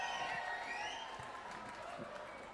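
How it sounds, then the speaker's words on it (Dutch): Crowd applause and cheering for singers Cornelie and Aafje at a 2004 gathering, steady clapping that tapers slightly with a lingering tone and a few voices mixed in. "En Aafje doet de artiestenbegeleiding, dus die verdient een extra applaus."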